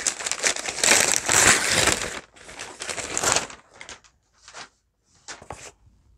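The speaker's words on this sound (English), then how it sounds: "Crinkling." Packaging crinkles and crackles close by, starting in dense, loud bursts that then thin into short, separated rustles and crackles with pauses in between.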